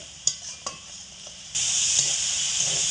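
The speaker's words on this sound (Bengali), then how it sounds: "মশলাটা ততক্ষণই এখানে জল দিয়ে কষাবো যতক্ষণ না এর থেকে তেল ছাড়তে শুরু করেছে" Spice paste being sautéed in oil with a splash of water, opening with a couple of sharp utensil taps, then a sudden loud hissing sizzle that holds steady close by, with no talking.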